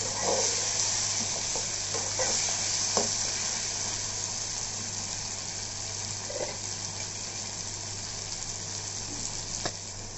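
Red pumpkin sizzles and fries in a pan while being stirred, a steady loud hiss running throughout, punctuated by occasional scraping and clinking strokes of the spoon.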